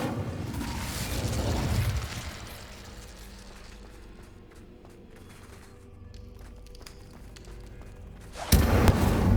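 An Incendio fire spell cast in Hogwarts Legacy: a loud, whooshing burst of fire with a heavy thump that fades into quieter rumbling, followed by another sudden loud blast at the end.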